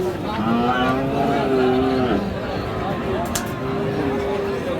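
Holstein Friesian cattle low at a busy rural livestock market, with drawn-out moos rising and falling over a steady crowd murmur and nearby talk.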